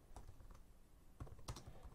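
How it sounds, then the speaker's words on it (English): Typing on a computer keyboard, a few soft scattered key clicks close by and quiet, with a brief burst of louder taps near the end. "excuse my typing"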